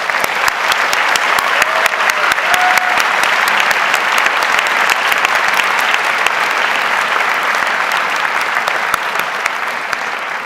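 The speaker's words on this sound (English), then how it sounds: "So let's also give your family, your parents, a round of applause." A large crowd at an honors convocation gives sustained, dense applause for the graduates' parents, a steady roar of many hands clapping that continues without letup and without any voices over it.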